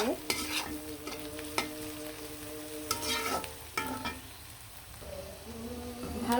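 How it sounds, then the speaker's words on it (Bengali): Onions frying with garam masala and whole spices in a pan while chicken curry cooks, a steady sizzle broken by repeated sharp scrapes and clanks of a spatula stirring against the metal. "দিয়ে পেঁয়াজটা ভাজা ভাজা করে রান্না করে দিব"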